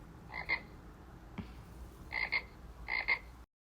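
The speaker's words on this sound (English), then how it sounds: "F is for frog." A frog croaks in three paired bursts, short raspy double calls spaced about a second apart, close and clear over faint background hiss.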